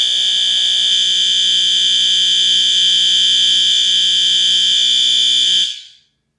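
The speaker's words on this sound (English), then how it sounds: "It happens to be the loudest horn strobe sold in the United States." A Spectre Alert Advance horn strobe alarm blares a loud, continuous high-pitched tone for over five seconds, close and piercing, then cuts off abruptly into silence.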